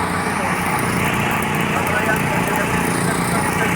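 A small welding machine at a construction site hums with a steady, loud engine drone, an unbroken mechanical whine with no pauses.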